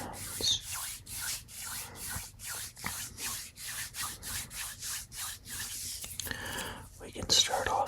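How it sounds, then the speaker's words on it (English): Bare hands rubbing together, close and intimate: a regular series of soft, swishing strokes, roughly two per second, with breathy texture and a brief rustle near the end. "we'll just get progressively faster with the hand rubbing"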